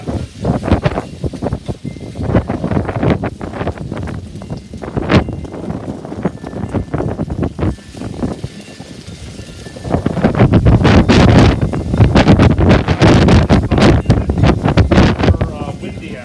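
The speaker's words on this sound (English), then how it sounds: "Windy out here." Gusty wind roars against the microphone in bursts, growing louder and more constant in the second half.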